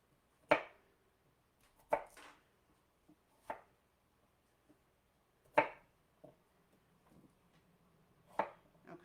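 Vegetables are cut for a pressure cooker stew, about six sharp knife chops on a board, spaced irregularly with quiet gaps between, close and fairly soft.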